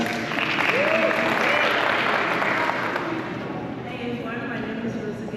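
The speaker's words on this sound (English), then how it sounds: "Clap for her, guys." A room full of people at a community conference on HIV/AIDS stigma claps in steady applause that tapers off slightly toward the end, with a few voices underneath.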